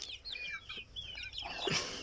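A white rooster on a farm, taken out of its cage, gives a string of short close clucks and calls, with more chicken chatter rising toward the end and no talking.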